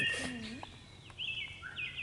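A person mimics bird calls at a festive gathering, producing a short run of whistled chirps and warbling tones, fairly faint, with other voices and room noise around.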